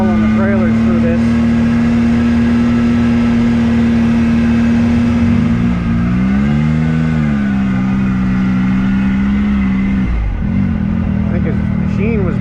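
A vehicle engine drones steadily from inside the cab on a rough, unmaintained, pothole-filled dirt road, the pitch shifting mid-way and dipping near the end, with someone talking over it.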